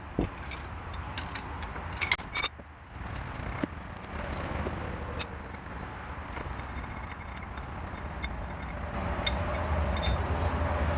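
Socket ratchet working 14mm rusted cylinder head bolts on a B20B engine, heard as a run of close, clicking metallic ratchet and tool clatter with occasional sharp knocks, no speech.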